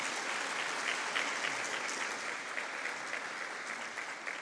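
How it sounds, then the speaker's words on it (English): An audience at a university faculty research day applauds a speaker with steady, dense clapping that stays fairly even and tapers slightly toward the end, heard from a distance at modest volume. "Give her a round of applause."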